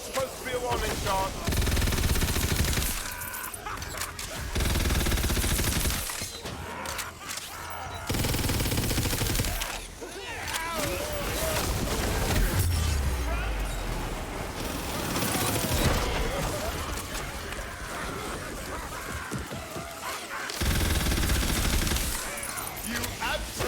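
Bursts of rapid gunfire ring out in Tiny Tina's Wonderlands, loud and dense, coming in repeated volleys amid game effects, with voices talking between the shots.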